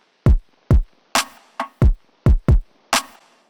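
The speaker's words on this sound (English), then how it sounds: "The kick and snare together sound like this." Punchy trap kick and snare pattern mixed in Reaper, eight sharp hits in an uneven syncopated rhythm, deep booming kicks alternating with brighter cracking snares, loud and close with no other instruments.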